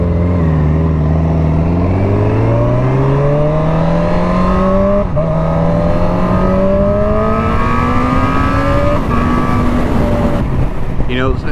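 A Honda CB 1000 motorcycle with a Fireblade engine accelerates hard through the gears, its loud engine tone climbing steadily with several brief shift breaks, close and continuous throughout.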